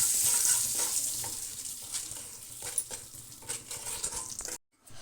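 Oil with turmeric and salt sizzles and crackles in a frying pan as a spoon stirs and scrapes through it, steady and close, with small clinks, then a brief silence near the end.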